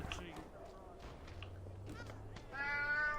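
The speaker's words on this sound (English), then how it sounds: "Oh, a cat." A cat meows in the video game Alice: Madness Returns, with a couple of short harmonic calls, the clearest one near the end, set over game ambience and a low background hum.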